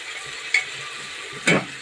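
Spice masala sautéing in a pan, a soft sizzle underneath two sharp scraping strokes of a spatula, close by and without any talking.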